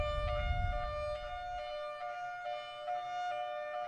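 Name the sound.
high-low siren tone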